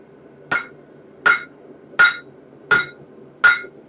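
A hammer strikes hot steel over an anvil horn while forging and opening an axe eye: five sharp, ringing blows, evenly spaced about three quarters of a second apart, close and loud against a faint background hum.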